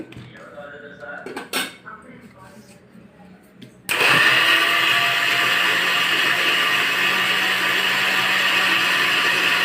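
A kitchen mixer grinder blending bitter gourd curry paste kicks on abruptly after a few quiet seconds of clinking utensils, then whirs loud and steady to the end.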